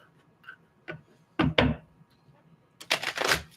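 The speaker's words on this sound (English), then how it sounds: "we'll give this 3 shuffles." A few short, crisp riffling bursts of tarot cards being shuffled, close by, with brief pauses between them and a longer final flurry.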